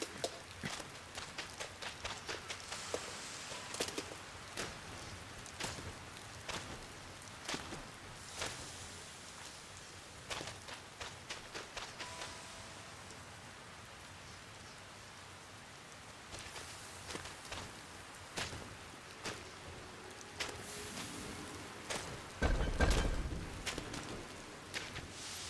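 Rain falling in the online video game Sky, a soft steady patter with scattered sharper drops and light tapping, quiet throughout, with a brief louder rumble near the end.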